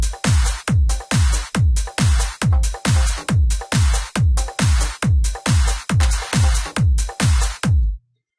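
Uplifting trance track playing back in FL Studio: fourteen even, punchy kick-led hits with percussion pulse at a steady tempo, loud and dry, then stop abruptly at the end, with no voices.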